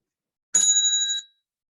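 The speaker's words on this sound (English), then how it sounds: "there's a bell. So I'm just letting everyone know before I ring it." A single bright bell ring, like a bicycle bell, strikes cleanly and holds for about half a second before quickly fading, heard alone in silence.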